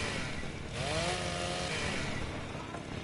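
Chainsaw revving in the video game Ark, a steady buzzing drone with a rising pitch sweep in the middle, continuous and fairly close throughout.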